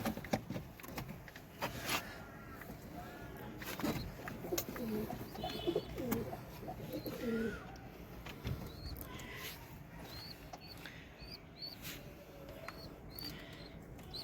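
Domestic desi pigeons coo in a loft where chicks have just hatched, soft throaty calls rising and falling over a steady background rustle, with a few fluttery sounds.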